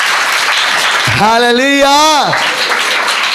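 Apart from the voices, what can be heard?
congregation clapping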